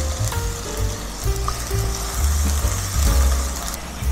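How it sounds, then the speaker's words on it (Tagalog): Chopped medium onion sautéing in about a tablespoon of oil in a heated pan, a steady, close crackling sizzle that carries on without pause, with no voices. "igigisa natin yung ating onion"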